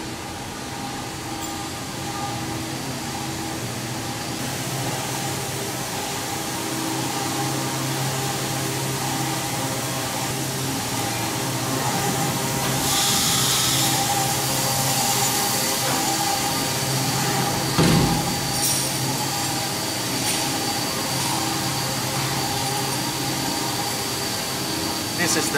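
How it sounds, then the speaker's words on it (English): A CNC machine runs steadily in a workshop where metal landing gear parts for a foam model jet are made, giving a constant loud mechanical whir with a brief louder swell partway through. "Let me show you about the CNC machine."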